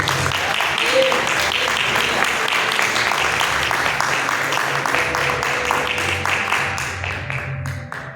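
A church congregation applauding, a dense, sustained clapping from many people that carries on for several seconds before tapering slightly at the end.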